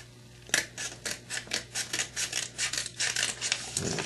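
Scissors cutting through the cardboard or paper of a trading package near the address label, a close run of rhythmic rasping snips repeated about a dozen times, with no talking over them.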